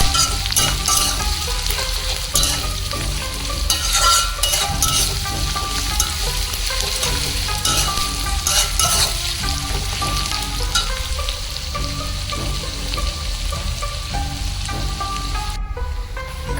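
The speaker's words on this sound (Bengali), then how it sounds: "পেঁয়াজটাকে ভাজা ভাজা করছি" Chopped onions sizzle steadily in hot oil in a pan for a Kolkata-style chicken dish, a dense, continuous close-up hiss that holds evenly for the whole stretch with no talking.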